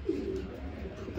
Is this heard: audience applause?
no